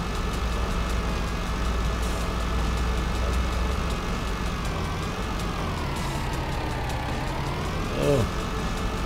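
A heavy truck engine drives steadily in the Irgendwo in Thüringen 2 game, a continuous low rumble with gear-like pitch sweeps, and a brief rising whine near the end.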